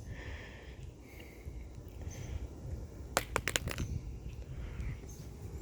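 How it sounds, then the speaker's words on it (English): Damaged Samsung Galaxy S7 phone with cracked glass dropped onto its frame, giving a quick cluster of four or five sharp thumps and rattles in the middle of an otherwise quiet, faintly rustling stretch. "dropping it on the frame and just hearing that thump sound is so satisfying"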